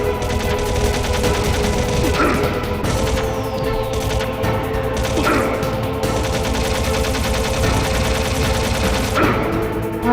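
Gunfire in the video game Metal Gear Solid, continuous loud bursts and rattling volleys layered with sharp repeated shots, dense and relentless from start to finish.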